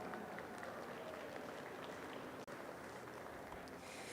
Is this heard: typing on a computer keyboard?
no